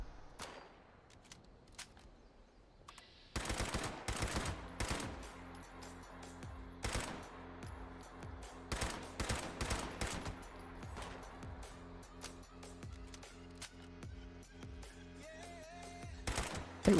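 Rapid bursts of turret gunfire crackle through a video game battle, dense repeated shots in clusters over a steady background hum, loud and close with no talking.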